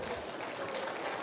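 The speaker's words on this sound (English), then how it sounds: "I beg clap for yourself. Clap for yourself." Audience applause at a live stand-up comedy show in Nigeria, a dense, steady wash of many hands clapping at once, loud and continuous throughout the short burst with no break.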